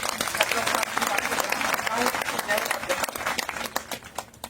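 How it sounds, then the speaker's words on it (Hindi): Enthusiastic applause from an audience at a gathering of fraud-affected investors, dense steady clapping with scattered sharper claps, sustained and moderately loud throughout. "उन्हें एक बार जोरदार ताली साथियों"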